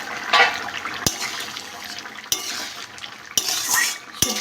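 A pot of Bengali shukto with sweet potato, bitter gourd, pumpkin and potato is handled in a kitchen. Several sharp metallic clanks break through a running wet, stirring wash, and one is likely the lid going on.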